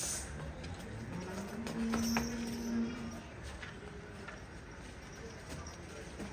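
Quiet, muffled clip-clop of a mare's hooves walking at a steady pace, heard at a distance over a faint background hum.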